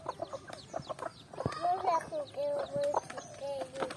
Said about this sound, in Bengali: খাবার দিচ্ছ মুরগিকে।